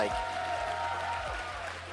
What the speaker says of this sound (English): Can we get another round of applause for these guys before the tiebreaker?